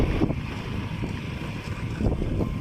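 A small boat's motor chugs on open water, a rough low throb with bursts of wind buffeting the microphone, close and continuous without talk.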